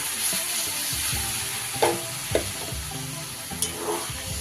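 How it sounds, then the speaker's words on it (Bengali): Water goes into a pan of sizzling banana flower and potato curry, and the steady frying hiss is broken by several sharp splashy bursts and a few utensil knocks, with no voices. "এবার দিয়ে দেব আমি পরিমাণ মতো জল"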